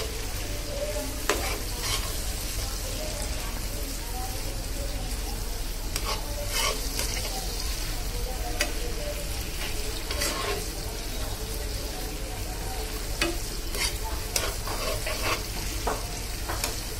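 Onion, tomato, chopped garlic and green chilli fry in a pan, making a loud, steady, close sizzle throughout, with occasional light clicks and scrapes of stirring on top.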